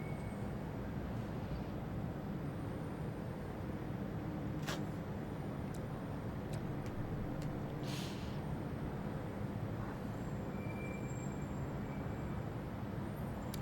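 Steady ambient rumble of a Class 323 electric train in Train Simulator 2021 on the Birmingham Cross City line, a continuous low drone with a few faint clicks and brief hiss bursts throughout.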